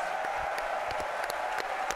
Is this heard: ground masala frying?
no